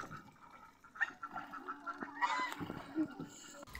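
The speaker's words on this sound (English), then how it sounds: "mostly you'll be hearing the ducks and the swans shouting out loud as" Ducks and swans call out at a small pond near an eco resort in Shantiniketan, giving faint, scattered honks and quacks in short irregular bursts over quiet background.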